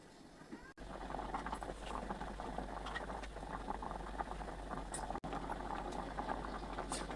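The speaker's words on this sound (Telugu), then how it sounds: "ఎలా మరుగుతుందో పులుసు అనేది మంచిగా మరిగి దగ్గరికి రావాలి" A tamarind egg curry simmers in a pot, a low, steady bubbling with soft pops and patter throughout, broken by two brief dropouts and a constant low hum underneath.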